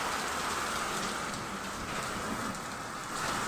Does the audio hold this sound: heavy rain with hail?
yes